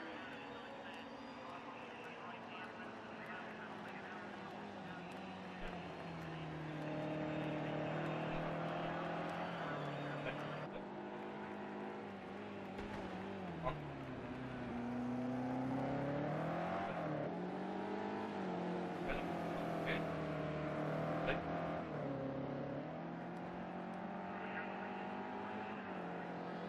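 GT3 race cars lapping the Autódromo Internacional do Algarve in a racing game, steady engine whine rising and falling through gear changes, with a commentator speaking German over it throughout.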